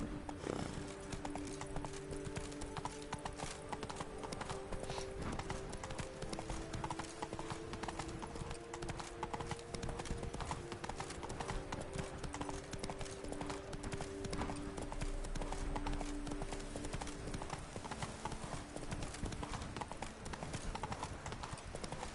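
Horse hooves clip-clop steadily in The Witcher 3 while riding, a continuous even rhythm under game ambience and music with an occasional whinny.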